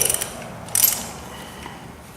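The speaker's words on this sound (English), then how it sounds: "Click this back the other way." A ratchet wrench clicks during an oil change on a Honda CRF70F motorcycle: a quick burst of clicks, a second short burst a moment later, then a quieter mechanical hum.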